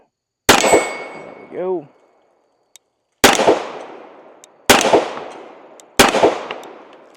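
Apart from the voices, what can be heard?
Springfield Armory Emissary 1911 pistol firing last rounds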